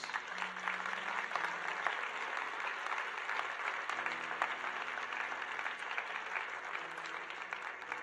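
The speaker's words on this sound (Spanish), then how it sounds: "Vamos a dar un aplauso fuerte a Dios." Church congregation applauding God at the close of a prayer during a sermon, a soft, sustained spread of clapping heard from a distance with a faint low tone underneath, steady for around eight seconds.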